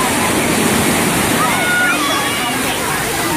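Loud, steady roar of surging ocean waves and surf at Repulse Bay beach, Hong Kong, fills the whole clip, with a faint voice murmuring underneath.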